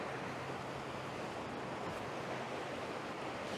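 The largest waterfall in a series at High Falls State Park, a steady, broad roar of rushing water that fills the clip without pause, loud and unbroken with no voices.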